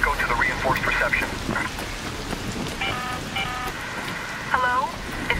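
Steady rain hisses through an electromagnetic storm raging over a video game's topside area, with a radio-like voice and brief electronic tones over the downpour.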